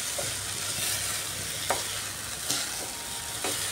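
Moong dal and vegetables stir-fried in a pan, a steady close sizzle with occasional scraping strokes of a spatula, no talking.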